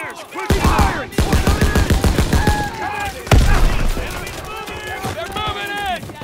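Rapid gunfire from World War II battle in Call of Duty: WWII, a dense stream of close shots over shouted voices, with a heavy boom midway.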